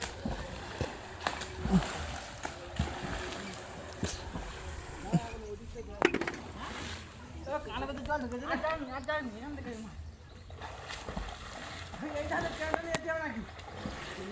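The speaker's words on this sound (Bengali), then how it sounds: "দেখো কেমন জল ঝাপটা দিচ্ছে" Water slaps and splashes against the side of a small fishing boat out on the water, irregular bursts of lapping heard under a voice, with a little background noise.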